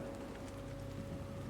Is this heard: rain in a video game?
yes